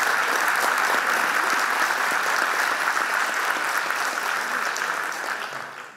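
An audience at an Argentine lecture on identity claps in a dense, sustained burst of applause that stays full throughout before fading away at the very end.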